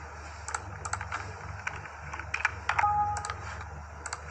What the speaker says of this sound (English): let's type in test space test